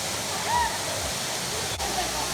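Blue Basin Waterfall in Trinidad, heard from above, gives a steady, close broadband roar of falling water throughout, with a faint voice briefly audible over it.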